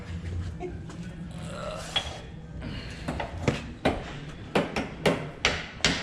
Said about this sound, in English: really advertise brass hammers for use on axles